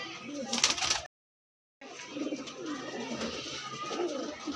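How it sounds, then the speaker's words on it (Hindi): Soft, low cooing of a desi pigeon, nearby and steady, briefly cut off by a gap of silence before resuming with faint background rustle. "देसी कबूतर है भाई"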